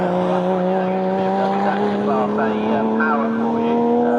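A BMW race car accelerates at the Snetterton circuit, its loud, steady engine note rising in pitch as it comes back up to speed, with a commentator talking over it.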